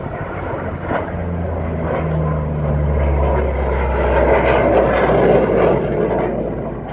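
Austrian Air Force Typhoon jets and a C-130 fly past at the RIAT air show, a loud, swelling engine roar building and sustaining as the aircraft pass close overhead.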